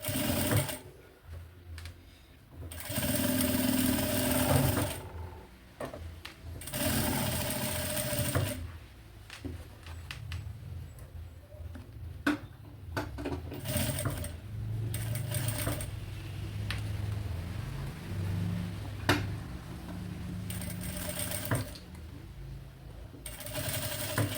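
Home sewing machine stitching the lining of a fabric maternity bag, bursts of fast whirring motor runs separated by short pauses and small handling clicks, close and fairly quiet.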